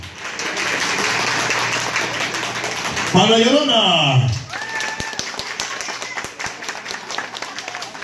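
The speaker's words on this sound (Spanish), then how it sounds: "Aplausos para el lobo y la mojita." Applause for Halloween costume contestants at a night club. Loud speech and a rising-and-falling vocal wail come first, then scattered, sharp claps break out under continued talking and room noise.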